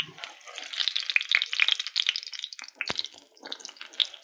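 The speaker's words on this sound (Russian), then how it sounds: "Жарятся вергуны на среднем огне, чтобы масло не горело" Verguny, pastries of soured-milk dough, frying in oil over medium heat in a pan: steady close crackling and sizzling with bright popping bubbles, heard alone without speech.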